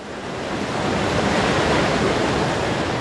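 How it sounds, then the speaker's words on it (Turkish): Floodwater from a sudden heavy downpour rushing through Üsküdar streets, a loud, steady, broadband roar like surf with no breaks and no voices. "Cumartesi günü aniden bastıran sağanak yağış Üsküdar'da yine bildik görüntülere yol açtı."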